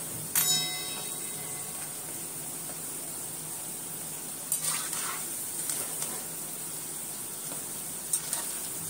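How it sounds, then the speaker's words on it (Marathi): Sabudana vada deep frying in hot oil, a steady fine crackle throughout with a few brief clinks of a utensil against the pan. "आता दुसरे मी घालून घेते तेलात।"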